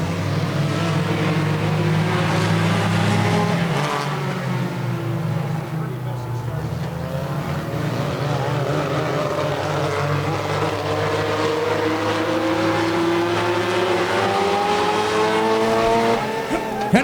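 Race cars roar through a heat race at Tomah, a pack of engines accelerating together with rising pitch sweeps, loud and sustained, while an announcer talks over the noise.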